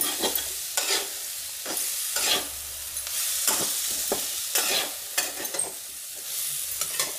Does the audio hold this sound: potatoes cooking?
yes